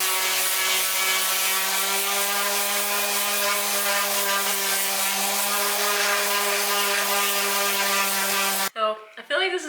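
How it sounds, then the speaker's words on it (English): A power sander works across a wooden bathroom cabinet, giving a steady, loud, close whine that holds for several seconds and then stops abruptly near the end. "Here we go on this journey of sanding this entire thing."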